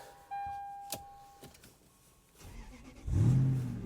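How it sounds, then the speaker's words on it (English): A short electronic chime rings, a few clicks follow, then the V8 engine of an Acura ZDX with 306,000 miles cranks and catches with a deep rumble near the end. "Let's start this up and hear the V8."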